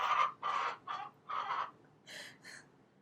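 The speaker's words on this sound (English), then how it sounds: "Do you guys hear my chicken?" A pet chicken wandering into a home office clucks in a series of six loud, close, squawking calls with short pauses between them, alone without talk.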